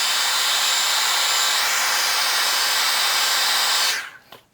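An airbrush spraying paint onto an inside surface, a steady loud hiss of air and spray running for about four seconds, sputtering in places like a machine gun, before cutting off abruptly into near silence.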